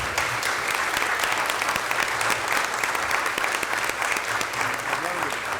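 An audience at a city council meeting breaks into sustained applause, a dense, even patter of many clapping hands that fills the room. A voice is heard faintly under it.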